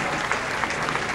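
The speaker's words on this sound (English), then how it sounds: "Crowd chanting for Weber, and he answers and comes through" Applause and cheering from the crowd at a 1998 PBA Tournament of Champions-style bowling match for bowler Weber at Stonehenge Family Fun Center: a dense, steady roar of clapping and voices close around with a few sharper bursts, no talk over it.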